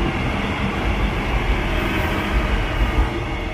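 A train runs past on a nearby railway track in Indonesia, a loud, steady rumbling roar of wheels on rails that fills the whole stretch with no pause.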